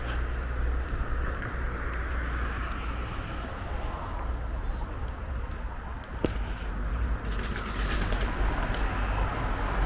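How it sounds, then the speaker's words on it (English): Pigeons or doves coo softly from trees beside an old church, faint and distant over a steady outdoor wind rumble and low background noise. "Birds in the trees."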